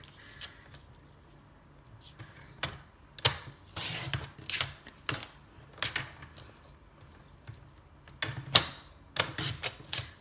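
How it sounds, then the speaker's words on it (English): A paper trimmer slices through cardstock in a series of sharp, close clicks and scraping swipes, coming in irregular bursts amid soft handling noises. "We're gonna grab our paper trimmer and just trim it real quick."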